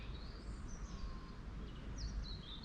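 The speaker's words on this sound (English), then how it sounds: "Hear the birds, very pretty." Faint birdsong drifts in from a distance on a coastal walk at Babbacombe near the beach, a few high chirps and whistles over a low, steady outdoor rumble.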